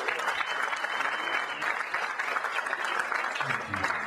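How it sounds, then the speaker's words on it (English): A jazz concert audience at the Kuumbwa Jazz Center applauds loudly and continuously, a dense wash of many hands clapping close by for the full four seconds, with no speech over it. "And the crowd goes wild."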